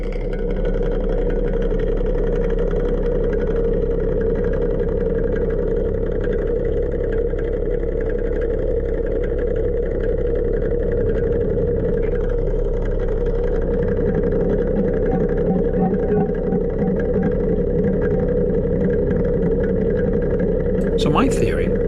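A Colvic Sea Rover 28 motor boat's engine runs steadily, its propeller loose on the shaft and giving no drive, a loud continuous droning hum with a rough undertone, and someone talks over it.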